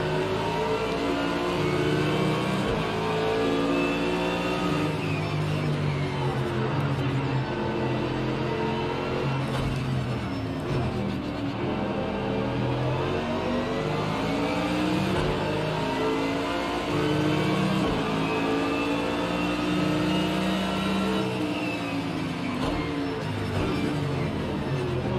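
Mercedes AMG GT3 race car in Project Cars 2 on the Nordschleife, its engine revving continuously and loud, pitch climbing and falling through gear changes in a dense, unbroken drone.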